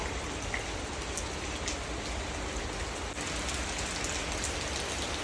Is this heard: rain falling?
yes